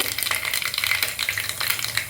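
Mustard seeds and green chillies frying in coconut oil, a loud, close, crackling sizzle with rapid irregular pops spattering throughout.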